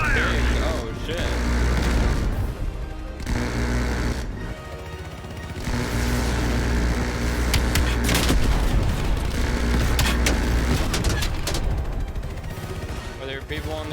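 Call of Duty: Black Ops Cold War combat with sustained loud gunfire, rapid bursts and heavy booms layered continuously, with voices now and then.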